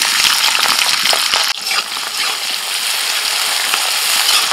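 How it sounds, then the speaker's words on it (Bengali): Chopped onions tossed into hot oil already crackling with whole spices give off a loud, steady broadband sizzle, with a sharp burst of spatter near the start that settles into a continuous fry. "পেঁয়াজ কুচি দিচ্ছি।"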